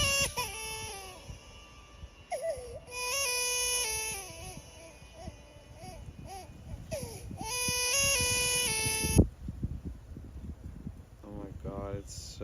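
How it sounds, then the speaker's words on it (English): A long, loud Discord notification ping with a glitchy, repeating electronic tone runs for several seconds and then cuts off abruptly, followed by a few short stuttering chirps, all over faint background noise. "the Discord ping."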